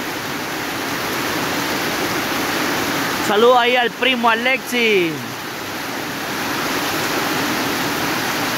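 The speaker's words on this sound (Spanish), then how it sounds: "Miren, viene más fuerte el agua, ¿ve?" Heavy rain pouring down outdoors as a steady, loud wash of water, with someone briefly talking over it midway.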